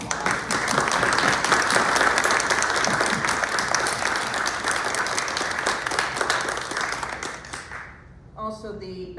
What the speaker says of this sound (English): I'd just like to give them a round of applause